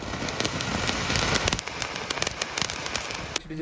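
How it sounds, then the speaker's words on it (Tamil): A gold crackling firework bursts nearby in a dense, continuous shower of sharp crackles and pops that keeps sputtering for several seconds with no talk over it. "ஆமாம் சடசிட்டுன்னு வெடிக்கும் அது வந்து கோல்டு கலரு"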